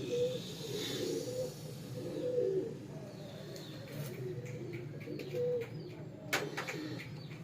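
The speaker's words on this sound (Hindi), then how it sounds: "ब्रीडर कबूतर।" Soft, low cooing from French breeder pigeons repeats steadily through the clip, with faint chirps and light rustling in the background.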